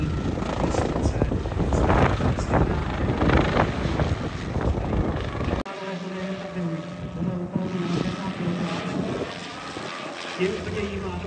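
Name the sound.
helicopter rotor blades slapping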